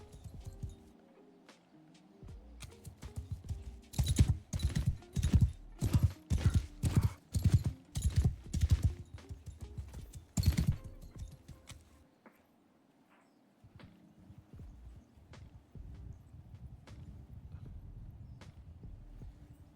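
Rapid hoofbeats of horse archers in Mount & Blade II: Bannerlord clatter in bursts as horses gallop past, loud in the middle then fading, with a low ambient rumble beneath.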